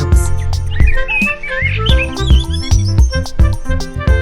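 Busy, high-pitched sparrow chirps and tweets come thick and fast over a steady rhythmic background of music, loud and close.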